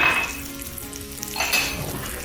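Salted food sizzles steadily in a pan as it gets stirred, with a close, continuous frying hiss and scraping swirls of movement.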